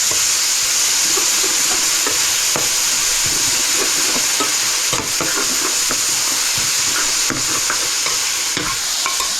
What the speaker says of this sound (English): Now last up, I'm going to fry up the spring onions, just a little.